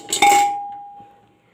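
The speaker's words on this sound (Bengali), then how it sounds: "কুকারের মধ্যে একটা স্ট্যান্ড দিয়ে দিলাম" A metal stand set down inside a pressure cooker gives one sharp clang followed by a clear, slowly fading metallic ring, close and alone.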